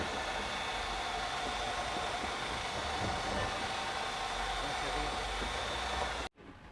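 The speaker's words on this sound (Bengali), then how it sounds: "এই যে চালাইতেছি আমরা মেশিনটা, এটা হচ্ছে আমাদের লোয়েস্ট স্পিডে মেশিনটা চলতেছে" A handheld electric concrete mixer drill runs at its lowest speed, a steady motor whine with a constant hum that holds evenly, then cuts off abruptly near the end.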